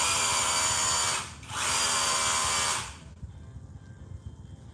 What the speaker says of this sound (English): Rotary hammer, very powerful.